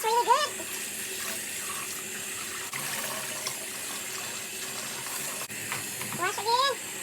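Tap water runs in a steady, close hiss as freshly picked garden sweet potatoes are washed in a sink, with brief talk at the start and near the end.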